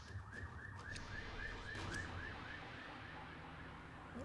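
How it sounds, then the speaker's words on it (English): A distant wailing city siren repeats in steady rising-and-falling cycles, faint beneath a low background hum, with no one speaking. "Apologies if you hear sirens."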